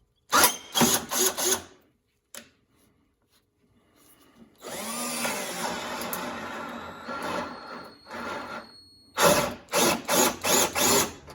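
A Harbor Freight electric drill, throwing metal shavings from its side, whirs in bursts: a short run, a pause, a longer grinding stretch, then more rapid bursts, close and loud.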